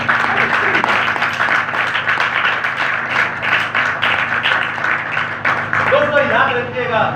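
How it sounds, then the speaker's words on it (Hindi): Audience applause for Jesus at a Hindi-language church worship gathering: dense, continuous clapping from a large crowd fills the whole stretch, with a voice speaking over the final second or so. "एक बार फिर यीशु के लिए तालियां।"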